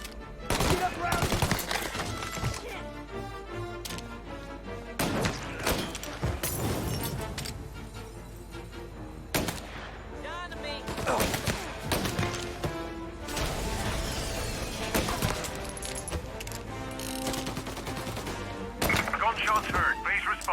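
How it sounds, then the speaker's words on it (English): Repeated bursts of gunfire in the video game Mafia: Definitive Edition, sharp cracks and rapid volleys over a busy mix of effects and voices, loud and continuous. "Gunshots heard."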